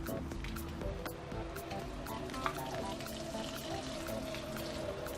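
A water pump lying on its side pumps water out of a fibreglass boat under restoration, giving a continuous gurgling, splashing pour with faint voices in the background.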